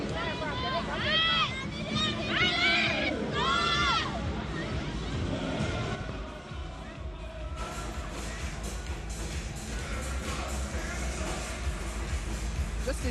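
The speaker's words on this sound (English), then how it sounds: "Just enjoy the crowd." A volleyball arena crowd roars and cheers at an international quarter-final between Thailand and Brazil, with loud whistling and chanting, then a sustained din of crowd noise. Commentators talk over it.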